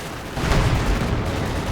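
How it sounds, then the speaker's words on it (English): An anti-tank grenade explodes in the Company of Heroes 2 strategy game, a loud dense blast that cuts in sharply and then rumbles on as sustained low battle noise without any talk. "The reducing anti-tank grenade going off."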